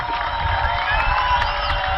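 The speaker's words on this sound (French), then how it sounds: "je vous demande d'ovationner par vos applaudissements frénétiques" A crowd at a Congolese political gathering cheers and whoops over sustained applause, a dense, steady wall of noise lasting the whole two seconds with scattered shouts standing out.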